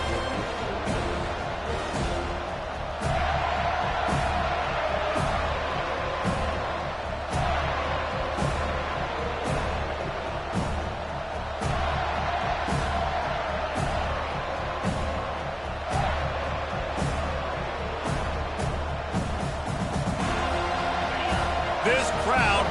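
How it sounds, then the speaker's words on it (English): Loud stadium crowd roaring and cheering in a college football video game, a dense, continuous wall of noise with scattered sharp thuds and hits, a commentator's voice running over it throughout. "This crowd bringing an ear-splitting welcome to their visitors."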